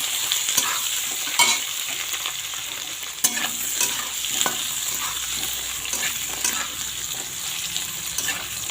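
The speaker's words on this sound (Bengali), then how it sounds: "আলুটা একটু ভালো করে ভেজে নেব।" Boiled potatoes fry in a pan after a bay leaf tempering, sizzling steadily and close by while a spoon stirs and scrapes at irregular intervals, with no voices.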